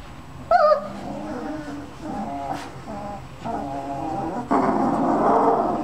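A puppy lets out a few close, high whimpers and grumbling little growls, with short yips scattered between quieter pauses.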